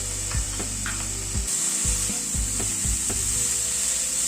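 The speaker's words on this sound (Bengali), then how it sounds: "টমেটোটা দিয়ে একটু নাড়াচাড়া করে নিচ্ছি।" Diced tomatoes and chickpeas are stirred in a pan with a spoon, soft scraping knocks repeating every half second or so over a steady low sizzle, close and fairly quiet.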